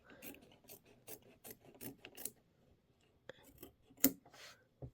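Scissors or a cutter trimming fabric across a quilt block: a quick series of soft, close snipping and rasping cuts, then a pause and a few sharper clicks, quiet with no talk.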